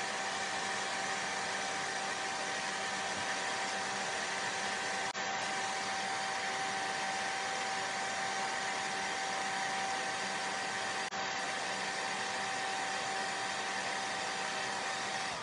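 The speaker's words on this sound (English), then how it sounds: "So let's go ahead and blow dry" A hair dryer blows steadily on a freshly painted wooden apple pie door hanger, a continuous close, even whoosh with a faint motor whine running throughout, no talking.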